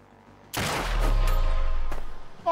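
A single gunshot fires in the turn-based strategy game SteamWorld Heist II, a sharp loud crack followed by a sustained low boom and rumble that slowly fades, with a brief second report near the end.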